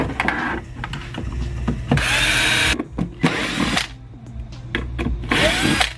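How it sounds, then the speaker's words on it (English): A power drill pre-drills screw holes in a car audio back plate for a Porsche Cayenne E build, whirring in three loud bursts with short gaps and some handling clatter in between. "Pre-drill those now."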